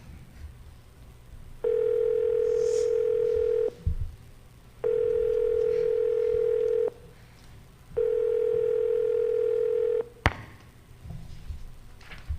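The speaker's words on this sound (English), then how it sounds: "Ringing the police department." A telephone ringing tone heard down the line in a radio drama sounds three times, each a steady buzzing burr about two seconds long with pauses between, followed by a sharp click.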